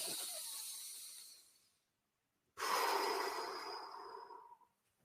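Breathing during a diaphragmatic breathing exercise: a long exhale fades out, silence follows, then a strong, close, hissing inhale through the nose tapers away.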